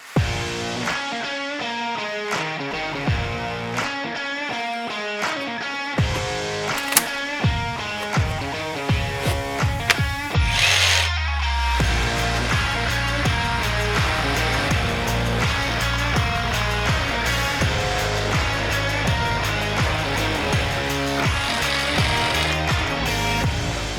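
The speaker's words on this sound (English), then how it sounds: "that's the first proper use of this jigsaw from Skill" Skil jigsaw cutting an MDF sheet: the saw starts with a few stuttering bursts, then settles into a loud, continuous, rapidly reciprocating buzz close to the microphone.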